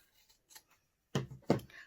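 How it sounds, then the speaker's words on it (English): Scissors cutting through quilt fabric along a stitched blue centre line while making half square triangles, two crisp close snips after a few faint rustles, with no talking. "now we're going to cut along that blue centre line. You can do this with a pair of scissors or with a rotary cutter."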